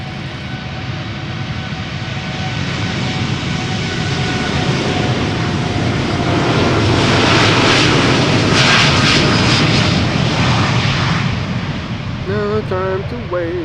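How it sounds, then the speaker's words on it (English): A TUI Boeing 787-8 Dreamliner takes off close by at Amsterdam Schiphol, a loud, sustained jet roar that builds to a peak as it passes and then eases, with a voice speaking briefly at the very end. "TUI Flight 375, a 7878 Dreamliner that just passed us by."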